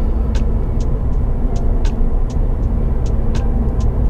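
A Toyota Veloz 1.5 driving through semi-urban Subang Jaya streets, giving a steady, continuous engine and road rumble from inside the cabin with faint repeated ticking over the top and no talking.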